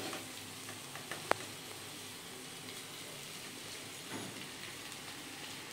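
Fried vegetables tipped into a simmering spice masala for a restaurant-style mixed vegetable curry, giving a steady, quiet sizzle throughout with one sharp clank near the start and no talking.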